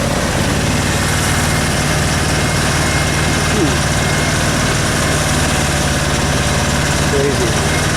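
A 3.3 horsepower Mariner outboard motor running steadily on floodwater at a nature preserve, a continuous loud droning engine hum with broad wind-like noise throughout.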